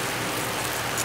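Heavy rain pours steadily with a dense, even hiss throughout, close by and constant.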